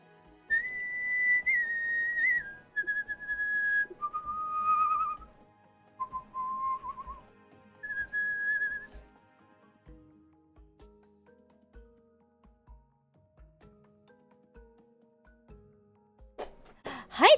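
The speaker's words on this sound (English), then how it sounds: "Did my whistling summon you?" A person whistles a short tune alone, several clear held and sliding notes over the first nine seconds, then quiet room sounds with small thumps and a brief noise at the end.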